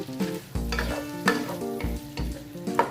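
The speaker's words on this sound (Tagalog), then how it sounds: "Igisa natin siyang maigi sa bawang." Shrimp sautéing with garlic in a pan sizzle steadily while a utensil stirs and scrapes in repeated strokes, close and fairly loud, with no talking.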